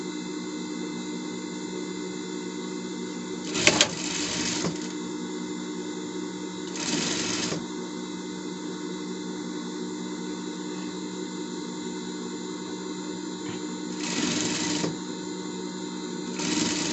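A sewing machine stitches the skirt of a gala gown, running with a steady mechanical whir and hum. Brief louder bursts and pauses break up the sewing.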